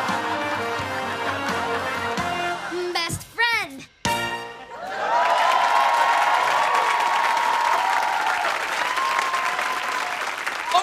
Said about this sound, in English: You don't recognize that sound because it's applause.